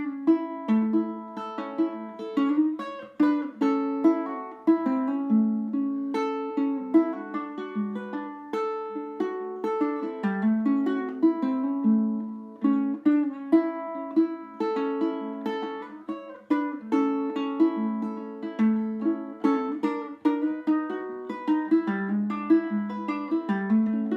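Solo ukulele playing a blues phrase with a thumb lead, double stop runs and a pickoff: bright plucked notes and paired-string chords in a quick, lilting rhythm, up close and unaccompanied throughout.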